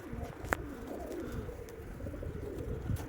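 Pigeons in a fancier's loft with young birds moulting, soft low cooing and rustling at close range, with a sharp flutter or tap near the start.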